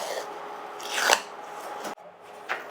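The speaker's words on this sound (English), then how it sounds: "let's mark that center line with tape" Masking tape unrolled and pressed onto a Honda CRX hood to mark its center line: close-up rasping tape pulls, a sharp tear partway through, then quieter rubbing as the strip is smoothed down.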